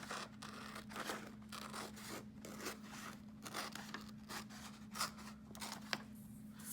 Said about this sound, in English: So I am going to cut on that line.